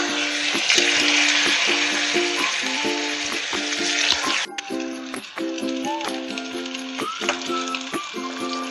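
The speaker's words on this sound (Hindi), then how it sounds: "पैन में हम ऑयल गरम कर लेंगे और उसमें बॉल्स को फ्राई करेंगे।" Chicken Manchurian balls deep-fry in a pan of hot oil, giving a steady, close crackling sizzle with a dense hiss that thins after a few seconds into lighter popping and spattering.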